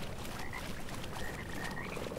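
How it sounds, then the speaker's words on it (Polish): Frogs croak in the video game Mortal Shell, a steady chorus of rough croaks over a faint, continuous ambient bed, with no voices. "O nie, żaby, żaby, żaby"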